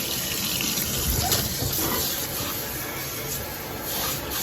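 Hot water runs steadily from a tap into a kitchen sink, a continuous rushing splash with no talking.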